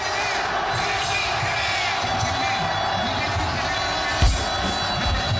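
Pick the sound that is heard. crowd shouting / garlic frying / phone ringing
crowd shouting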